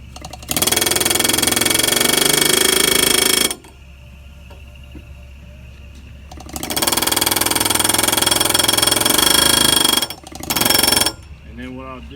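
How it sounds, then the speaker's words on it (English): A pneumatic air hammer tapping in a brake part chatters in loud, sustained bursts, stopping and starting several times, with quieter pauses between runs. "keep rolling the air hammer around and keep on working it in until we're completely in"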